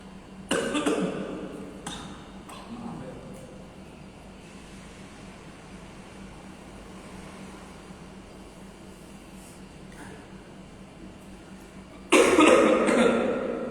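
A man coughs in a few loud, close bursts at the start, and a heavier coughing fit comes near the end. Between them there is a quiet stretch with only a low hum.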